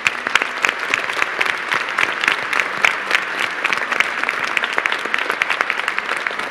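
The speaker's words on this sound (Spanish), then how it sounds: "Ahora a ustedes, queridos confirmados, los felicitamos con un caluroso aplauso." A church congregation at Sunday Mass gives warm, sustained applause for newly confirmed members, with dense steady clapping throughout and no talking.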